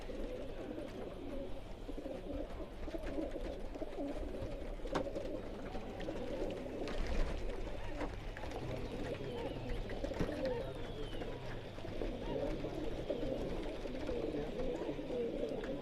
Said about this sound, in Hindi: ये मेरे 40 कबूतर हैं तकरीबन